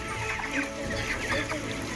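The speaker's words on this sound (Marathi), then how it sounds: "ही बघा ही कोंबडी" Hens clucking in a busy flock on a poultry farm, steady overlapping calls close by with a noisy background throughout.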